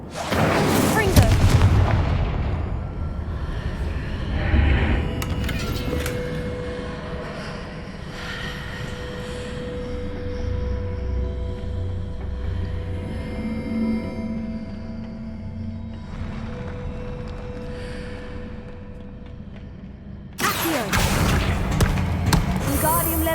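Confringo spell explosions in Hogwarts Legacy: a loud, booming blast opens, followed by a long rumbling, rattling stretch, then another sharp, heavy burst near the end.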